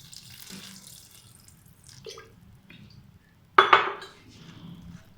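Water splashes briefly into a bowl, about one and a half glasses poured over soaking food, a short burst after quieter kitchen clatter and low rumble, fairly close.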